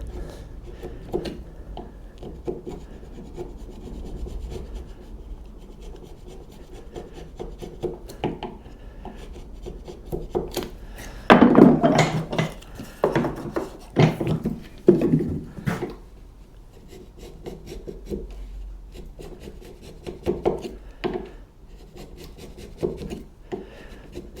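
A hand tool rasps and scrapes across timber while cleaning up the rough surface of a dovetail halving joint, in short repeated strokes that grow louder in a burst midway. The strokes are close and come without talk.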